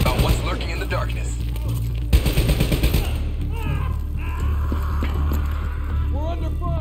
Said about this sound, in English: We're under fire! Hostile bots! Coming through the walls!